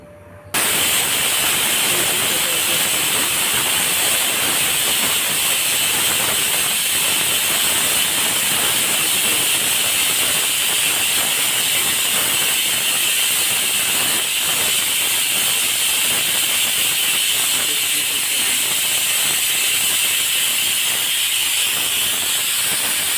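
A pressure cooker holding dal and rice for pongal releases steam in a loud, steady, unbroken hiss that starts abruptly and continues for over twenty seconds.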